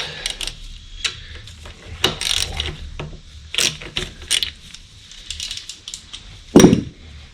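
A ratchet loosens 12mm brake caliper bolts on a Kawasaki Z1000SX motorcycle in several short bursts of clicking, separated by quiet gaps, with a louder clunk near the end.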